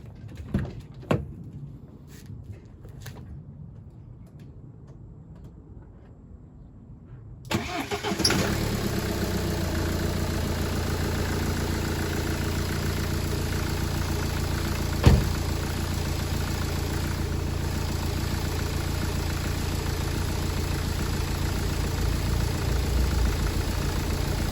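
A BMW E93 320d with the N47 diesel engine sits quiet at first, then cranks and fires abruptly and settles into a steady, close, even idle, with one sharp clack partway through.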